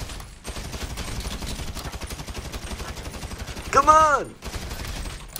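Gunfire in a staged real-life robbery skit parodying Grand Theft Auto V: a rapid, loud, close string of shots running almost the whole time, with a shout rising over it near the end.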